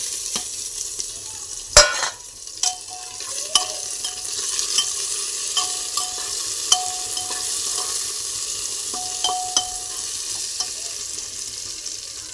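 Tomato frying with onion and chili for dal khichdi, a steady sizzle under repeated spatula scrapes and clinks against the pan, close and fairly loud.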